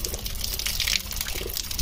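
Water pours steadily from a stone spout in a hillside village, a close, continuous splashing gush with no talk over it.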